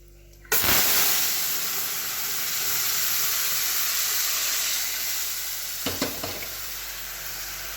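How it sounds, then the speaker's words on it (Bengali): Bori lentil dumplings and panch phoron hit hot oil with a sudden loud sizzle that then holds as a steady, close frying hiss, with a few clinks of stirring toward the end. "এখানে তেলেতে পাঁচ ফোড়ন দিয়ে আর বড়ি ভাজি"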